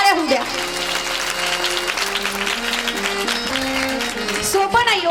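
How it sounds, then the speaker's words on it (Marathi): An audience claps loudly at a kirtan, with a dense patter of clapping running throughout and sustained harmonium or vocal tones underneath. "एकदा जोरदार टाळ्या होऊ द्या"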